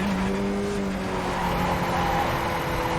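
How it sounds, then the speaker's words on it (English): Race car in an iRacing-style sim racing game twitching into oversteer, a steady loud engine drone with a brief rising whine of tire squeal partway through, continuous throughout and without talk. "Ooh, lost my momentum with that oversteer there."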